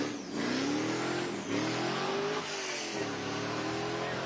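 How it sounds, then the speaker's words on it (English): Hillclimb race cars leave the start line, their engines revving in rising, sweeping pitches as each accelerates away, heard from a short distance with a steady background hum. "you'll be able to hear the cars that are taken off at the start right behind us"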